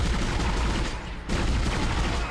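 Gunfire in the sci-fi horror game Dead Space: sustained, heavy weapon fire fills the whole moment, briefly dipping just past the midpoint before resuming at full intensity.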